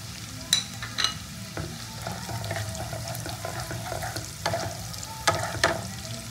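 Chopped ginger and green chillies fry in hot oil in a pan for dhaba-style chilli chicken, giving a steady close sizzle broken by sharp clinks and scrapes of a spatula stirring, with no voices.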